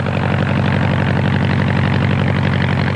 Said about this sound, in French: Il vient juste de réussir à faire tourner le vieux moteur de 40 chevaux.